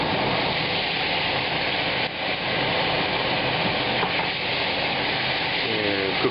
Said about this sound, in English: Now I'm going to add the passata that has the spices mixed in with it.